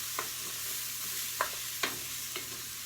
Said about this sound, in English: Now we definitely have a good toast happening here.